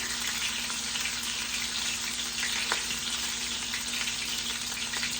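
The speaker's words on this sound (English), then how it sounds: "I'm sure now you can hear that sizzle" Coconut shrimp sizzle steadily in a hot frying pan, a close, continuous crackling hiss with occasional pops and no talking.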